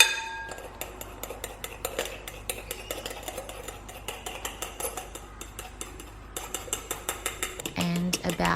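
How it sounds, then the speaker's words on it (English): A hand whisk beats a dalgona coffee mixture in a bowl, giving rapid, rhythmic metallic clinks and scrapes that continue steadily throughout and grow a little louder toward the end. "just keep whisking away until the consistency starts to change"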